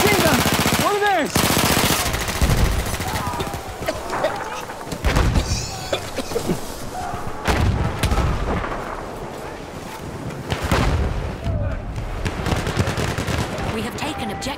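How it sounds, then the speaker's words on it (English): Machine gun and artillery fire in the Battlefield 1 video game, set in the Argonne Forest: loud, dense bursts of rattling fire and heavy booms, with shouting voices mixed in throughout. "Machine gun! One of theirs!"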